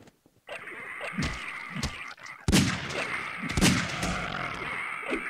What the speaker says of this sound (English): So with this, you can cause many explosions.